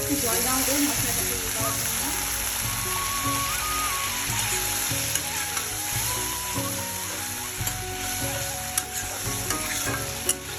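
Water goes into a frying spice masala, setting off a loud, dense, continuous sizzle close by with occasional stirring clicks. A voice speaks faintly beneath the frying.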